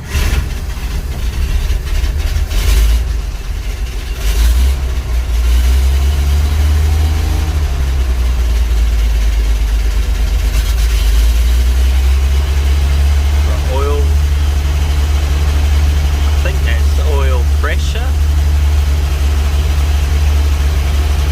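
A loud Nissan Patrol SD33 diesel engine, started after sitting, rumbles steadily close by, idling with a deep low drone while people talk over it.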